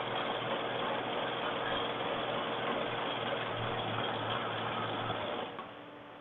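A sewing machine stitching a man's shirt runs as a steady, continuous mechanical whir with a low hum, droning evenly for several seconds before slowing and fading near the end.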